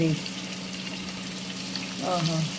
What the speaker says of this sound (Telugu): onion వేగాల 5 minutes